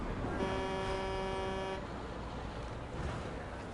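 A car horn honks inside the video game Jurassic World Evolution 2, one steady sustained toot lasting over a second before fading into a rumbling engine and road noise.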